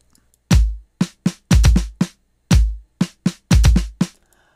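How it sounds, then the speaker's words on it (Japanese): A programmed drum beat from EZ-Drummer 3 software plays alone: booming kick hits alternating with sharp snare and hi-hat strikes in a steady, looping sixteenth-note pattern. "あんまり上手なドラムのパターンではありませんが"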